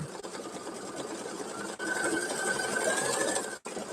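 An embroidery machine stitching out a design whirs in a fast, continuous rattle, steady and fairly close, with two short pauses in the run.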